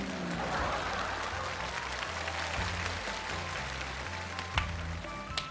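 Lively audience applause in a TV comedy variety show, a sustained crackle of many hands clapping at moderate volume with a few sharper claps standing out.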